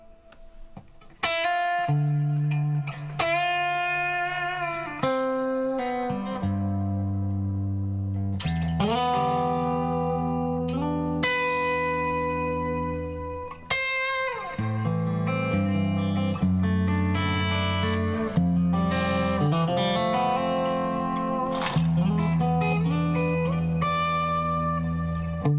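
Guitar notes played through a studio reverb effect, each plucked phrase trailing off in a lingering wash of reflections, steady and fairly loud across the whole passage with no talking.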